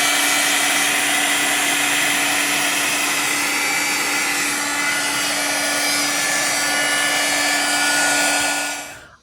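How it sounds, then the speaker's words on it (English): A heat gun blows steadily on a resin mold for a river table, a loud, even whirring hiss with a constant tone that cuts off sharply at the end. "Right, heat gun time."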